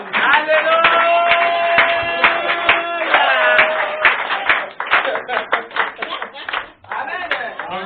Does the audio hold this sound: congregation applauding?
yes